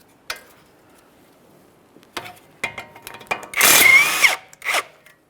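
A power tool works the ball joint pinch bolt on a 2013-2020 Ford Fusion's front lower control arm, with a few sharp clicks and knocks before a loud, close burst of whirring and a final short buzz.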